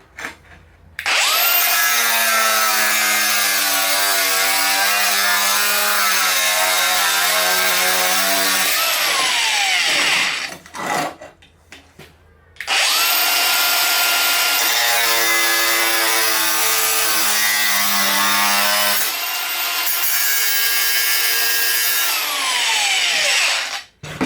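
An angle grinder fitted with a multi-material disc cuts ceramic tile in two long, loud, high-pitched whining passes of roughly eight seconds each, with the motor's pitch wavering under load and a brief spin-down pause between them.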